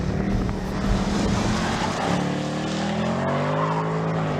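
A black Mercedes-Benz C63 AMG Coupe takes a corner with a loud, rising engine note as its tires squeal and skid, the pitch sweeping upward partway through.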